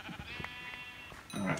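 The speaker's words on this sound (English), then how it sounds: "Oh, I found a sheep." A sheep in the Minecraft video game bleats a couple of times, short and fairly faint, with the second bleat slightly louder near the end.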